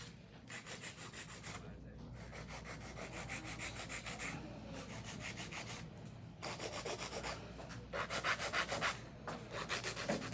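An acrylic nail is filed with a nail file in repeated close rasping strokes, steady and fairly loud, with brief pauses between passes.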